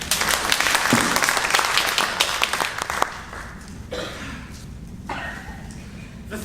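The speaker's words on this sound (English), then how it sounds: "I rather expected a little applause there" An audience at a stage play claps in a dense burst of applause that thins out after a few seconds into scattered claps and room noise.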